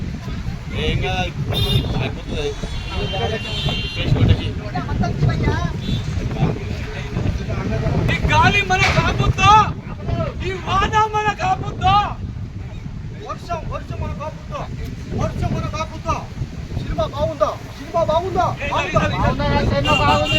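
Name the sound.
wind blowing into the microphone outdoors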